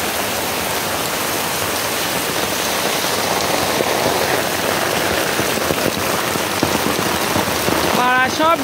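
Heavy rain pours steadily on a flooded neighbourhood, a dense continuous wash of drops on surfaces, close and loud throughout, with a brief faint voice near the end.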